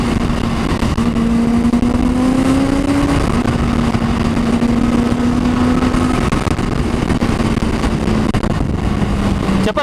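Kawasaki H2 motorcycle engine pulling hard at full throttle, a loud continuous roar with a steady rising then levelling drone plus heavy wind rush throughout.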